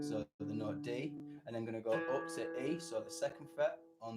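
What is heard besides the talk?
None of the usual background noises is heard.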